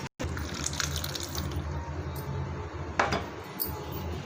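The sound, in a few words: pouring lemon juice into biryani marinade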